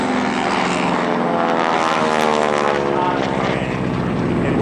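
A 600 horsepower propeller-driven World War II training airplane of about 5,000 pounds drones loudly and steadily in flight, its engine and propeller roar filling the whole stretch with no talk.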